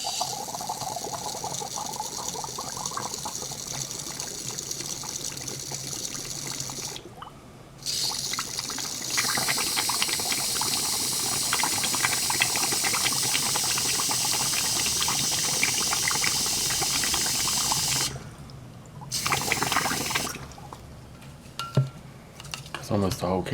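A can of AC compressor flush solvent sprays into a 1994 Saab 9000's Seiko Seiki compressor, giving a loud, continuous hiss broken by two short pauses before the spraying resumes.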